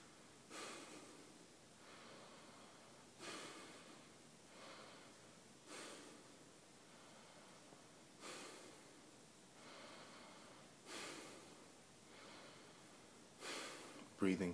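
Slow, deliberate conscious breathing during a guided relaxation, six soft drawn-out breaths spaced a couple of seconds apart, close and quiet with a faint sniff at the very end.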